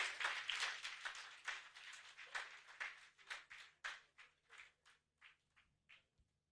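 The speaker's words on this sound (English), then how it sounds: "Please give a powerful appreciation clap" Applause from a conference audience at a pharmacists' annual conference and exhibition, a dense burst of many hands clapping that thins into scattered, separate claps and fades out.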